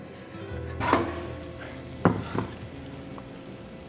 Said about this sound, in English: stir it because you don't want it to burn